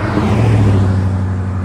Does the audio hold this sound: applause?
no